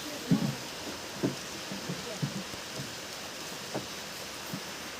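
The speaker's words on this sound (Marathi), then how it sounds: "येतोय पाऊस काय करा आता" Steady rain falls outside a village house, a soft, even hiss with a few heavier drops or thumps popping out now and then.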